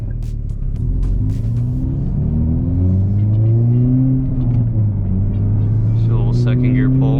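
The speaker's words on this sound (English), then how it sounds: "Second gear pull." A JB4-tuned Hyundai Veloster N pulls hard through second gear, the engine note rising steadily in pitch from a low rumble to a loud, close roar before easing off near the end.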